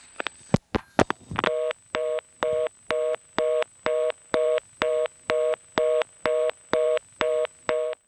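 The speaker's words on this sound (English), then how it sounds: "this reorder came on because I flashed" Reorder tone on an NX1 step-by-step telephone exchange after a switchhook flash: a few sharp clicks, then a loud, steady run of fast, evenly spaced tone pulses, alone with no voices.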